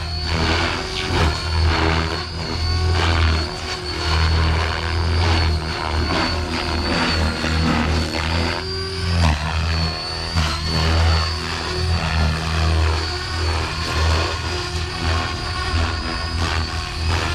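Spektrum Oxy5 RC helicopter flying, its rotor and motor giving a steady, loud whine and buzz that runs continuously throughout with slight pitch shifts and no talk.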